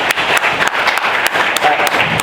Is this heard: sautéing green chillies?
no